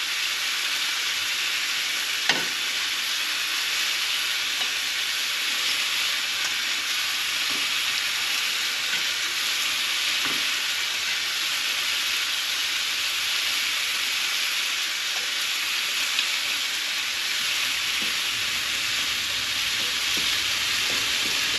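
Potatoes and shrimp fry on a Camp Chef Deluxe camping stove, a steady loud hiss and sizzle running unbroken throughout, with a few faint clicks and knocks and no talking.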